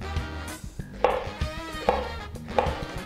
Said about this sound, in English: We're going to slice up our tomato.